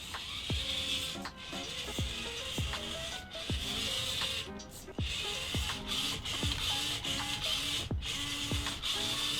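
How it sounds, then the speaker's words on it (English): The steering servo of a small-scale Carisma MSA-1E RC car whirs and chatters in quick repeated bursts, each sweep a short mechanical buzz with ratcheting gear tones, close and fairly loud over a steady hiss. "Ooh, nice responsive steering. It's actually a pretty decent steering servo."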